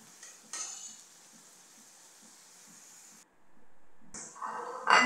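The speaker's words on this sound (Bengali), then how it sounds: "ভালো করে মশলাটি কষিয়ে নিতে হবে" Spices for broiler chicken being stir-fried in a pan, a soft steady sizzle with scattered utensil scrapes and clinks, a brief hush midway, then louder scraping and sizzle at the end.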